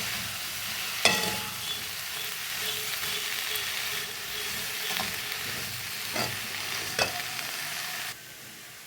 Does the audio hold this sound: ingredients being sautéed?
yes